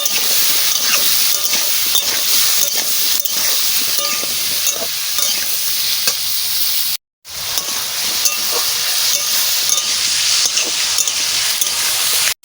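Pieces of papaya frying in a pan with turmeric and salt, giving a steady close sizzle and hiss under frequent stirring scrapes. It runs continuously apart from a brief cut midway, with no talking.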